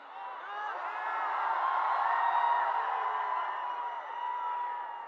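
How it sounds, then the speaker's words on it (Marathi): A large crowd of young people at a Gen-Z protest in Mumbai roars and cheers continuously, a dense wash of many voices with whoops rising and falling, loud and sustained throughout. "दिल्ली एवढाच मोठा क्राऊड तरुणांचा आलेला आहे"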